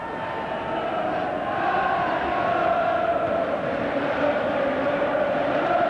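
Football stadium crowd at an England v Norway match, a steady roaring wash of cheering from a large distant crowd, sustained and even throughout.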